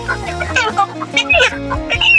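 Live chickens at a poultry seller's in northern Thailand cluck and squawk in short, close bursts, with people talking loudly over and between the calls.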